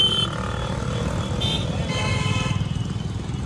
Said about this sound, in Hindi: बहुत ट्रैफिक है, देखो आप बहुत ट्रैफिक है।